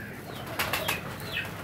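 Pigeons flap their wings in a short burst of fluttering, with a couple of sharper wingbeat slaps over steady background noise, moderately near.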